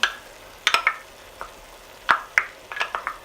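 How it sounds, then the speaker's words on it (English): Diced onion stirred into browning ground beef in a pan for Greek pastitsio, a handful of close scraping and clattering strokes from a utensil against the pan over a faint low background, no speech. "now we're going to add our onion"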